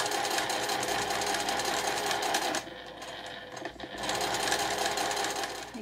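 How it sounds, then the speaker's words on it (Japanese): A domestic sewing machine stitches along the edge of a folded fabric loop strip, a steady close whirring drone with a brief slowdown partway through before resuming at full speed. "そしたら際を縫います。"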